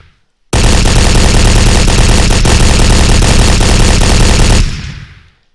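Rapid automatic gunfire in the block-built shooter game Brick Force, one unbroken burst of about four seconds, very loud and dense, cutting off abruptly and trailing into a short fading echo.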